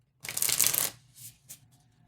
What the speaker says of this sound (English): as I'm talking, I'm having a hard time shuffling